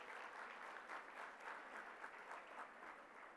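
A crowd at a bilingual parents' summit opening session claps for an honoree, a soft, sustained round of applause with gently pulsing swells.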